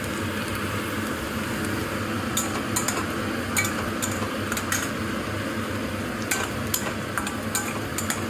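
Three garlic cloves frying in a pan with a steady sizzle underneath, punctuated by scattered clinks and scrapes of a utensil stirring against the metal.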